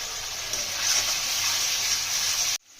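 Ground garam masala and chilli powder sizzling steadily in hot oil in a pan, a loud continuous hiss that cuts off sharply near the end.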